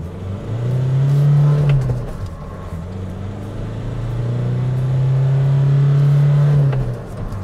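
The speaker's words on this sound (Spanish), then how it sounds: "Yo sé que ustedes quieren ver la aceleración. Verifico que esté en 2H. Vamos a fondo." A JAC T8 4x4 pickup in 2H accelerating at full throttle, its engine droning up in pitch, easing off briefly, then climbing again in a long steady pull, loud and close from inside the cab.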